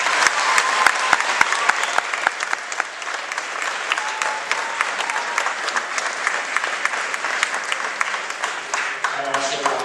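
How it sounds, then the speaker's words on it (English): An audience at a sixth grade graduation applauds the teachers, loud continuous clapping from a large crowd lasting about ten seconds, with some voices mixed in. "Let's give them a round of applause."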